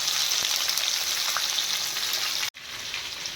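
Whole stuffed eggplants frying in oil in a pan hiss in a constant bright sizzle, with a brief cut near the end before the sizzle picks up again, and no talk over it.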